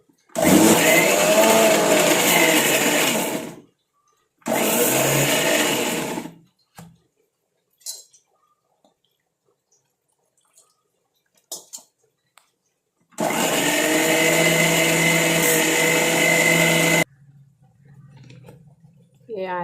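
Electric blender grinding a green herbal hair-growth paste with water, running in three loud bursts with pauses between, with faint handling knocks in the gaps.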